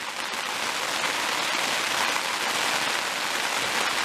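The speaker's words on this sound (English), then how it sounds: "And I thought it couldn't rain harder." Heavy, nonstop rain pouring down on a surface, a dense, even hiss of drops that holds steady and loud throughout.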